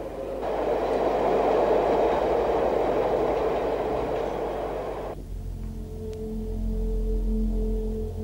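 A train to Turpan, China, in 1983, rumbles loudly along the tracks for several seconds, then the noise drops to a lower, steadier hum as it slows or the scene shifts.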